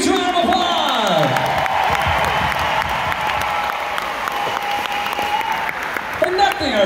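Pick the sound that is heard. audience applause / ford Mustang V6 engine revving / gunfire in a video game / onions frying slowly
audience applause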